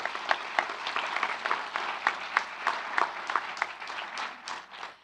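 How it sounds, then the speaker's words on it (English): An audience at a university research awards ceremony applauds the judges with a dense, steady stretch of many hands clapping, holding an even level throughout. "So a round of applause for all of our amazing judges, please"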